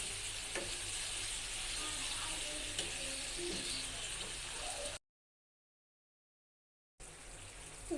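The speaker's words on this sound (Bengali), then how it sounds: "দেখুন আমি মাংসটা কষিয়ে নিচ্ছি, মাংসটা একটু হবে।" Chicken pieces frying with spices in hot oil in a pan, a dense continuous sizzle with light stirring, cut off by two seconds of silence before the sizzle resumes.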